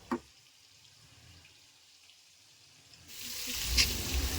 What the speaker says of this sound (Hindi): तो चावल को भी पसा लेना होगा, यानी कि उसका पानी जो है उसको चुला लेना पड़ेगा।